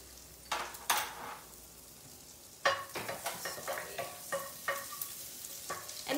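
Garlic frying in a pan for mushroom risotto, heard as bursts of sizzling with spoon stirring and scraping, close and fairly loud, quiet in between.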